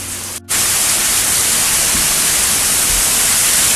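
Steady rain falls in still, windless air, heard from a porch in Arkansas as a dense, even hiss that cuts out for an instant near the start and then continues unbroken.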